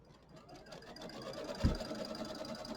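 An embroidery machine stitches a placement line for quilt batting on a mini quilt, a fast, even mechanical whir close by with a single soft thump midway.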